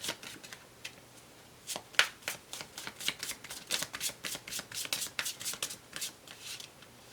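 Oracle cards being shuffled by hand, a rapid run of crisp riffling flutters and light slaps repeating close to the microphone, with no talking.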